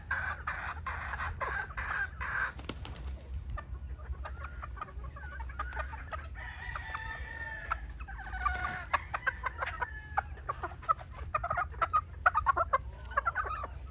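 Pure sweetness gray pullets, about seven to eight months old, cluck steadily and close by, with a few sharper rooster-like calls and fowl chatter over a low background hum.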